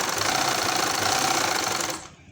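Sewing machine running steadily at close range while double-stitching frock lining cloth, a dense whirring rattle that stops abruptly near the end.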